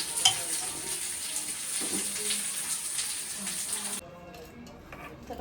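Tomato frying in oil in a pan, a close steady sizzle with scraping stirs, dropping to a quieter hiss near the end, with faint talking in the background.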